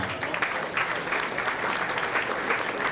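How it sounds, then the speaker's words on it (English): A crowd at a dinner applauds steadily, a dense even patter of clapping that holds at the same level throughout. "Give Diane a nice round of applause, please."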